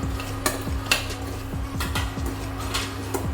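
Dry fruits and charoli are stirred in hot ghee in a pan for sheera, with repeated sharp scrapes and clinks of a spoon against metal over a faint sizzle, close and rhythmic.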